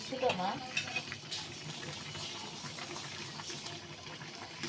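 River fish go into a bubbling curry with eggplant and get stirred, a close, steady sizzle and simmer with scraping and liquid sloshing, loudest at the start.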